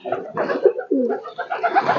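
Pigeons kept for sale give several soft, rolling coos one after another, close by and fairly loud, with a few short chirps mixed in.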